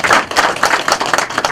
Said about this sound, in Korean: 올 네 분 또 올 학부형님들께도 격려의 박수를 쳐드립니다.